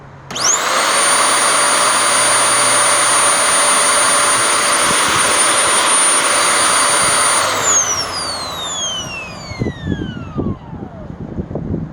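A curbside-found vacuum cleaner with a power nozzle runs with a loud steady high whine for several seconds, then winds down, leaving scattered clunks and rattles.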